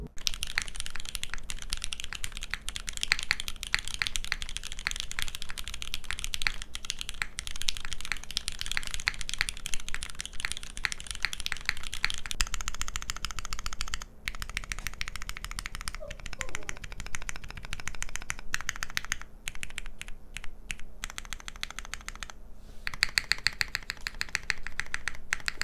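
Typing on an endgame mechanical keyboard, dense rapid clacking keystrokes close up, steady and busy throughout with brief pauses and a short burst of faster strokes near the end, no talk.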